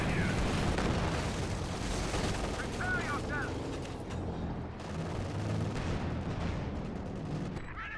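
Battle sounds from the real-time strategy game Company of Heroes 2, with artillery fire and dense, continuous gunfire and explosions forming a loud, busy combat bed throughout.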